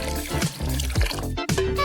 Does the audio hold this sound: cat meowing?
no